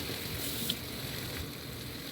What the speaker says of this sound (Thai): ตามด้วยกุ้งจ้าไปผัด